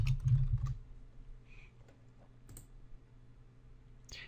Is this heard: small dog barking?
no